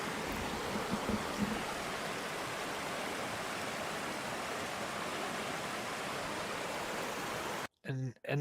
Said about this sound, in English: Standing next to creek.